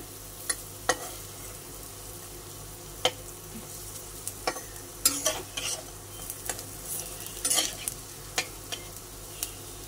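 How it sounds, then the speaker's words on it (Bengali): Lentil fritters (bora) frying in a pan over low heat give a soft, constant sizzle, with scattered spatula scrapes and clinks against the pan. "গ্যাসটা কিন্তু একটু কমিয়ে দিয়েই বড়াগুলো ভাজবে, না হলে পুড়ে যেতে পারে।"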